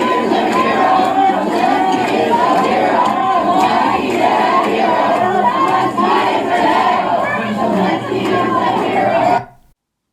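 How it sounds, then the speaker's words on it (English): A large protest crowd outside a Tesla dealership in Manhattan chants in unison, loud rhythmic massed voices repeating a slogan with shouts layered in, stopping abruptly near the end. "This is a crowd chanting Zelensky is a hero outside a Tesla dealership in"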